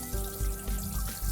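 Water is poured during cleaning, a steady splashing flow with rhythmic gurgling surges roughly every few tenths of a second, close and continuous with no talk.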